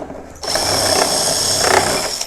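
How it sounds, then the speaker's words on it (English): A power drill bores into a cupboard panel through a 3D printed drilling jig, a steady close whirring grind that starts abruptly and runs continuously with slight surges near the end. "we'll start drilling at the 3rd hole height"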